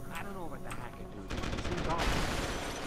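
Enemy gunfire in the shooter Deus Ex: Human Revolution bursts out as rapid automatic shots, moderately loud and building into a dense sustained rattle after a brief stretch of someone talking over background sound.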